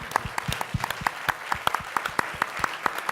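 A burst of applause with sharp, distinct claps landing in a fairly steady rhythm, fairly close and loud, with no voices.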